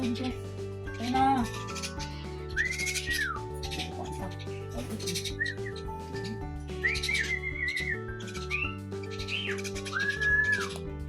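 A talking myna, known as a Martinez bird, gives a series of bright, rising and sliding whistles over background music, close and fairly loud, in short phrases scattered through the clip.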